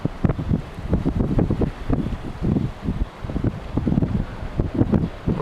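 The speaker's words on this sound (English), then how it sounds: "We're getting like 30-mile-per-hour gusts here." Strong wind gusts of around 30 mph buffet the microphone in repeated loud, uneven bursts with brief lulls between them, blowing dry moss away outdoors.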